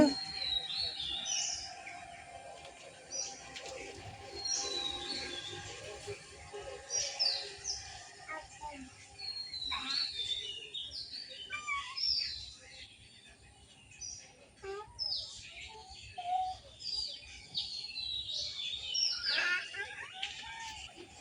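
Birds chirp and tweet in short, scattered bursts in an outdoor garden scene, fairly faint against a quiet background with occasional distant voices.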